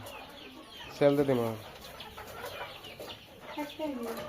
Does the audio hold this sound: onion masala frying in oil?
no